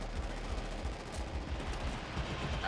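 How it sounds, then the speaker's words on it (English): Rapid bursts of distant gunfire rattle steadily in the video game Killzone Shadow Fall, a team deathmatch, like automatic weapons firing in a continuous exchange. "get some a lot of gunfire going on"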